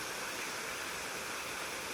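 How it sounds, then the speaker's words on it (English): A thin waterfall at McCormick Creek State Park with only a little water flowing over the rocks gives a steady, soft broadband rush, heard from an overlook without any interruption. "there's not much water flowing over them, but there is a waterfall right there"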